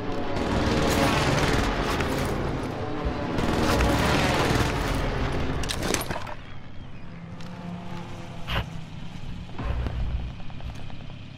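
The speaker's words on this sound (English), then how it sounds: "Allied precision airstrike incoming." Loud, dense bursts of gunfire and heavy explosions from a precision airstrike in Call of Duty: Modern Warfare, continuous for about six seconds before easing into quieter scattered shots and a sharp crack later on.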